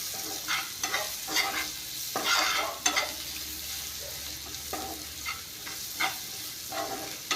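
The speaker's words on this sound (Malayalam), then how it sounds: "ഒരു 1/4 ടീസ്പൂൺ ഉപ്പ് ഇട്ട് കൊടുത്തതിന് ശേഷം നന്നായിട്ട് ഇതൊന്ന് ഇളക്കിയിട്ട്" Paneer masala being stirred in a pan, the spoon scraping in repeated uneven strokes over a soft background sizzle, close and moderately loud, with no talking.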